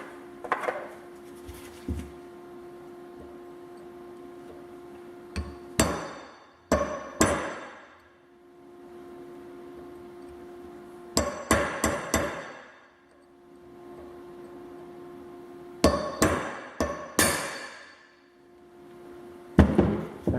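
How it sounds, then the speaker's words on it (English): Sharp metallic hammer blows on a cold chisel cracking a Dana axle bearing retainer, arriving in several tight bursts of rapid strikes separated by pauses over a low steady background hum, close and loud. "we'll go ahead and try our cold chisel out"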